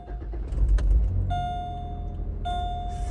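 A car is switched on with keys jangling at first, a low engine rumble building up, then a steady idle hum and two electronic warning chimes as the dashboard comes on.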